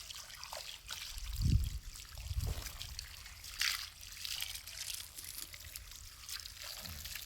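Water trickling and splashing softly while a dog is bathed outdoors in the sun, with a low continuous dribble and a few heavier pours, moderately faint.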